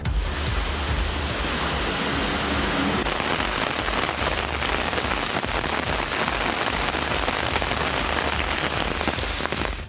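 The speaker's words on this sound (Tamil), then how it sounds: "தருமபுரி மற்றும் அதன் சுற்றுவட்டார பகுதிகளில் 2வது நாளாக மழை பெய்தது." Steady rain falls over Dharmapuri and nearby areas in Tamil Nadu, a dense continuous hiss of drops on surfaces that stays loud and even throughout, with no voices.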